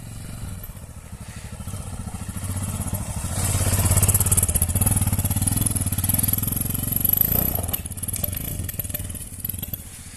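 A Yamaha XT 660 Z Tenere motorcycle on a test ride, its engine running steadily and loud throughout, swelling as it revs harder in the middle before easing back, with some clatter over the rough ground.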